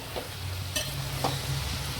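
Brinjals frying in a pan for gutti vankaya curry, a steady close sizzle with a few light scraping stirs of a spoon through the pieces.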